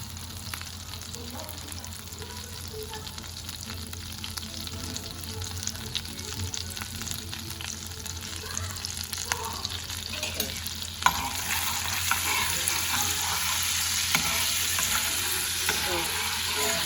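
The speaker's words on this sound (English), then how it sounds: "That is just going to sizzle up" Green chilies with red chili powder sizzle steadily in a hot pan with faint stirring scrapes, the crackling hiss turning brighter and louder partway through.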